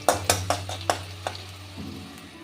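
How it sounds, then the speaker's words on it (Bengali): Cloves and cardamom fry in a pan for chicken curry. A quick run of sharp clattering pops fades gradually over a low, steady hum, with a soft sizzle underneath. "আর দিচ্ছি অল্প লবঙ্গ, দিয়ে আরেকটু ভেজে নেব"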